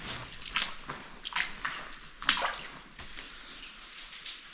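Paddling through standing water and orange sludge in a disused railway tunnel at Sandsend, with repeated splashing sloshes at an irregular rhythm, moderately close and echoing lightly, with no voices.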